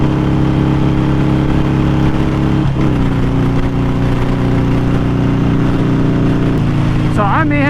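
On a road ride, a motorcycle engine drones loudly with wind rush as a nearby vehicle accelerates, the engine pitch stepping through gear changes, with a rider speaking over it.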